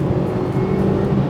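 Supercharged Mazda MX5 Miata under full-throttle acceleration, a loud steady engine drone with a clear rising tonal whine and no pause, heard from inside the car.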